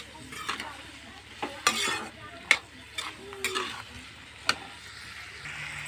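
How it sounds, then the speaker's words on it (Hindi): Spices being stirred into a vegetable curry cooking in a pan, a spoon scraping and clinking in several distinct strokes over a faint steady sizzle, close by with no talking. "देखिए मैं मसाला डालने जा रही हूँ, देख सकते हैं मसाला डालकर अब इसको मिलाना है।"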